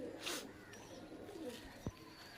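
Pigeons in a loft coo softly and repeatedly nearby over a low, steady background, with one sharp brief knock near the end.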